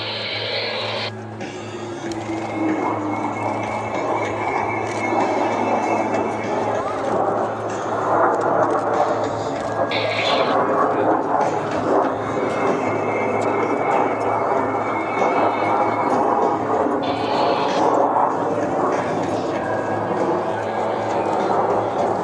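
Blue Angels jets performing a left echelon roll at the Wings Over Atlanta air show, a steady loud roar of jet engines that holds for the whole stretch beneath a crowd and announcer-type voice talking.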